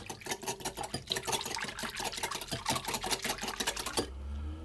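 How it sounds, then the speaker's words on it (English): Eggs being whisked in a bowl for pineapple and coconut muffins: quick, steady clicking strokes heard up close, running continuously before stopping abruptly near the end. "And I'm just going to whisk those to break the egg up a little bit."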